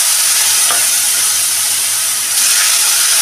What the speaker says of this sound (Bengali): এই মাছগুলোকে আমি এবার হালকা হালকা করে ভেজে নেব